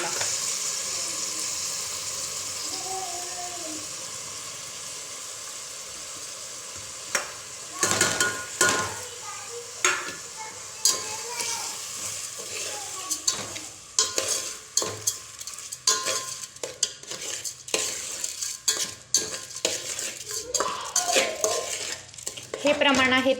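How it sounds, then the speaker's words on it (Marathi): Soaked, drained rice is stirred and fried in a pot of mutton biryani, a steady sizzle overlaid by repeated scraping and clinking of the spoon against the pot, fairly close. "तांदूळ छान परतलेला आहे"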